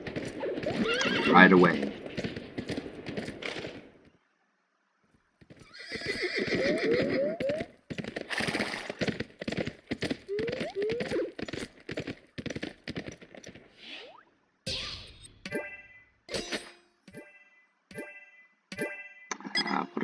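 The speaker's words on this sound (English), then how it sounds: "Now we're baiting the horse. Come here, horsey." A horse in The Escapists 2 video game neighs loudly and repeatedly among quick, clattering hoofbeats, bursts separated by short silences, while a person talks over parts of it.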